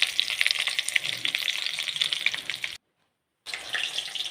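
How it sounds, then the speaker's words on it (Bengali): Chicken pakoras frying in a pan of hot oil, a faint, steady crackling sizzle with a brief silent break before the bubbling resumes. "আমি চিকেনের পকোড়াগুলোকে ভেজে ফেললাম এইভাবে।"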